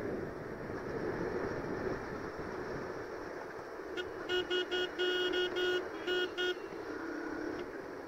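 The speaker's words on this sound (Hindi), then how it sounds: "बिल्कुल मक्खन चल रही है गाड़ी अपनी" KTM RC 200 motorcycle on the road, a steady engine and wind roar with a car horn honking in a few short bursts near the middle.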